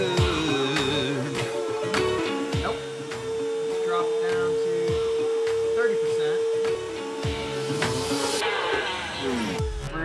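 A CNC router spindle spinning at 26,200 RPM makes a test cut at 50 inches a minute. A steady, loud high whine runs under a broad rushing noise, with repeated bursts of cutting chatter throughout.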